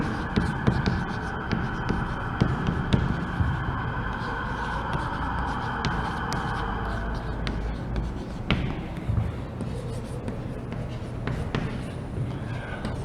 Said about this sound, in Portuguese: Deixa eu escrever.